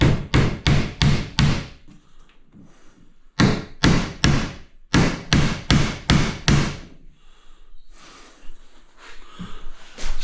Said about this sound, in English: Stop before you nail it all the way home.